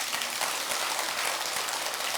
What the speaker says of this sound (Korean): 한다고 박수 한번 주세요.